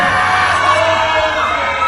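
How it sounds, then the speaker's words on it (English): Wrestling crowd roaring and jeering at the result of a championship match, a loud, dense wall of voices sustained throughout. "And this Douglas crowd letting everyone know exactly how they feel about that result."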